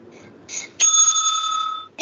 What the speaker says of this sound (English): The timekeeper will ring the bell once.